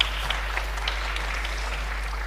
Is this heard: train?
no